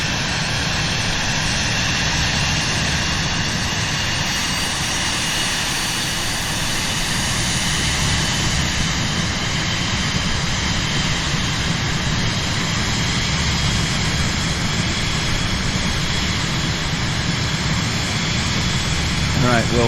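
An airplane engine in Microsoft Flight Simulator drones steadily as the aircraft climbs on autopilot toward 6,000 feet over Ohio, with a continuous broadband roar throughout and a voice talking intermittently over it.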